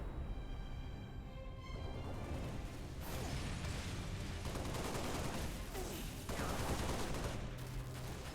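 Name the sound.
gunfire in the video game Halo Reach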